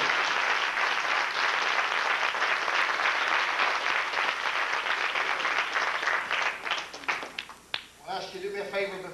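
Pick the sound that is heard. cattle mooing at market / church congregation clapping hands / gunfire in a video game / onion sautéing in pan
church congregation clapping hands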